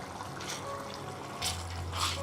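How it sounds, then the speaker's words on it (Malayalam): Thick coconut milk pours into a simmering chickpea curry, a soft close liquid splash in short bursts, with no speech. "ഇനി ഇതിലേക്ക് നമ്മൾ ചേർത്ത് കൊടുക്കുന്നത് 1/2 കപ്പ് നല്ല കുറുകിയ തേങ്ങാപ്പാൽ ഒഴിച്ചു കൊടുക്കാം."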